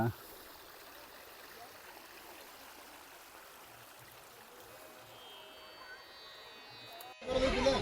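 A steady, soft rush of water running down from a hill continues throughout at a distance, with a louder burst of noise at the very end.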